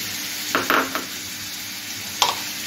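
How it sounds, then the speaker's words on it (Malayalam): Chopped tomato and crushed ginger, green chili and garlic dropping into a hot pan for prawn biryani: a few brief soft splats and stirring scrapes over a low steady sizzle, close up. "ഞാൻ എൻ്റെ കൂടെ തന്നെ ചെറിയ പീസായിട്ട് കട്ട് ചെയ്ത ഒരു തക്കാളി ഇനി ഇഞ്ചിയും പച്ചമുളകും വെളുത്തുള്ളിയും കൂടെ ചതച്ച് വെച്ചിരിക്കുന്നത് അതും കൂടി ഇട്ട് കൊടുക്കാം"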